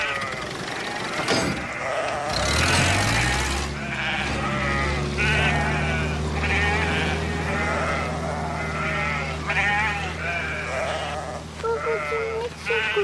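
Lambs bleat repeatedly, several near and loud calls overlapping one another, with a steady low hum and some rustling beneath.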